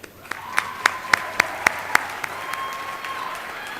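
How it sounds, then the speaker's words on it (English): Applause at a school commencement ceremony, a handful of sharp, evenly spaced loud claps standing out over a softer crowd bed, with a faint steady tone running underneath. "A round of applause, please"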